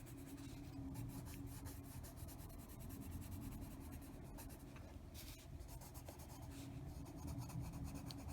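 Soft, continuous scratchy rubbing of colored pencil on paper, close up, with a steady back-and-forth texture.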